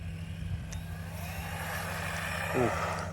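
Small Arrma Typhon Grom RC car revving its electric motor, a steady whine that rises briefly near the end, heard outdoors from close by.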